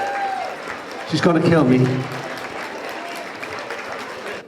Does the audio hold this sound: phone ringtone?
no